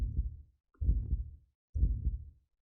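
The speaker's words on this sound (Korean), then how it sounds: "다행히도 내 심장 소리를 듣고 있다거나 하는 기색은 없었다" A slow, muffled heartbeat pulses in the occult mystery adventure game Novena Diabolos: deep, low thumps in a steady rhythm, each beat a heavy doubled throb, alone with no talk.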